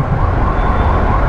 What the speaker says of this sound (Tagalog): fire truck na dumadaan dito